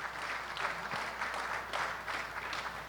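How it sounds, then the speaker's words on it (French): Lively applause from an audience at a national education conference in Haiti, a steady wash of clapping with rhythmic surges that fills the whole stretch with no voices over it. "Je demande pour lui un vif applaudissement"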